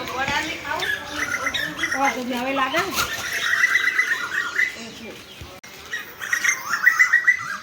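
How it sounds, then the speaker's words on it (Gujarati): A koel calls in repeated bursts of rising notes from some distance, while people talk nearby. "કોયલનો અવાજ સાંભળવા મળે છે મને."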